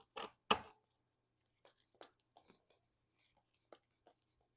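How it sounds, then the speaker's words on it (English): A player deck of game cards shuffled on a tabletop: two short, crisp riffle bursts followed by scattered soft taps and card handling, quiet and close, with no talk. "let's shuffle up our player deck here"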